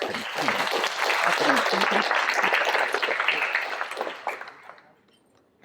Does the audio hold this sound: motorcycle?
no